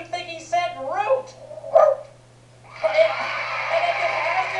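A voice imitating a dog barking on a children's alphabet game show, a short bark-like vocal burst following talk, then a longer noisy stretch.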